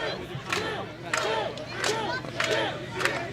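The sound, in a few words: dueling chants from the wrestling crowd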